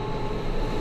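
Interior of a train riding through Switzerland on a rainy day, a dense, steady broadband rumble with a deep low-end drone, continuous and fairly loud, with no talking.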